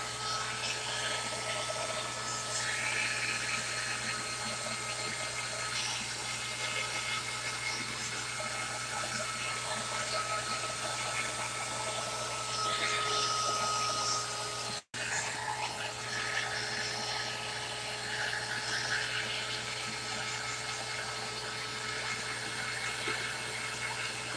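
A dryer blows steadily on a craft project, a continuous whooshing drone with a low hum, close and fairly loud, briefly cutting out once before resuming unchanged.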